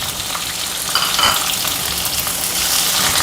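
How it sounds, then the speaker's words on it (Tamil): Urad dal dry-roasting in a pan for capsicum chutney gives a steady, close sizzle and crackle that stays even throughout, with no voices. "நல்லா வாசனை வர்ற வரைக்கும் செவக்க வறுத்துக்கோங்க"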